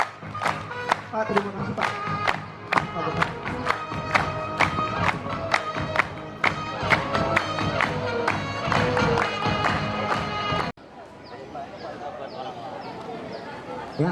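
A school audience at a Teachers' Day talk show applauds the vocational school principal with rhythmic group clapping and some cheering, loud and close, while someone briefly speaks; the clapping then stops abruptly, leaving quieter crowd murmur.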